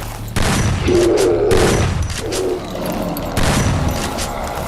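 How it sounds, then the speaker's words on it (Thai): Shotgun blasts fired rapidly until the magazine is empty, a loud sound effect of booming shots running together into a dense fusillade, heard alone without speech. "ร้อมรัวกระสุนลูกซองใส่บ้างอสุรกายจนหมดแม็ก"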